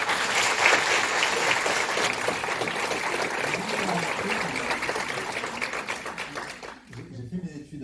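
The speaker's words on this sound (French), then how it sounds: "Merci beaucoup Laurent, vous pouvez l'applaudir" Steady crowd applause at a conference fills the whole stretch, a dense wash of clapping that slowly thins out, with a voice speaking near the end.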